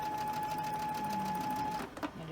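A sewing machine stitches cotton fabric in a steady, continuous whir for about two seconds, close and fairly quiet, then slows and stops with a faint clunk and some light handling noise.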